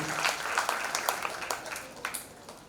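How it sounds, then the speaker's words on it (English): Applause for the staff of a school event, a moderate crowd clapping steadily and fairly close, then slowly fading over a few seconds. "Please put your hand together for the team who have tirelessly worked for the last 15 days to make the event"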